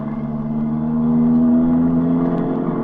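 A taxi engine pulling away fast in a radio drama effect, a steady close motor drone that swells slightly mid-clip and then eases back.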